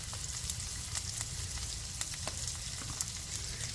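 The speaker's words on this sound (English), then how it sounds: "we're gonna add a lot of ginger and garlic and hot chili." Ginger, garlic and hot chili fry in a hot pan for spicy shrimp, giving a steady, even sizzle with a few small pops scattered throughout. No one speaks.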